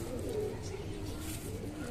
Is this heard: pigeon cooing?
yes